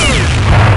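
A flashbang grenade detonates in Counter-Strike 1.6 on the Dust 2 map, a loud, sustained blast with a ringing high whine that fills the whole short moment.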